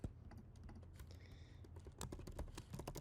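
Fingers tap on a computer keyboard while working in an Excel spreadsheet, scattered individual key clicks followed by a quicker burst of typing, close and fairly quiet.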